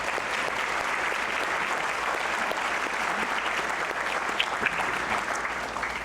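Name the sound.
audience applause for the development team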